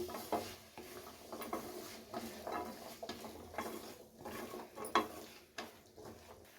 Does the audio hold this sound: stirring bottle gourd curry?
yes